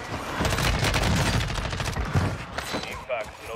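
Rapid bursts of gunfire in the Call of Duty Warzone video game, close and loud, crackling in quick clusters with a few heavier thumps, while a player's voice murmurs underneath.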